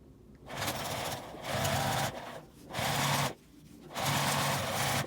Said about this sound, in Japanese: ここに端ミシンをかけます。